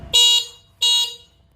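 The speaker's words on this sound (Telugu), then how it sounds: "తర్వాత హారన్" Horn of an Oreva electric scooter sounding two short, bright electronic honks, the second following closely after the first, loud and close with no other sound.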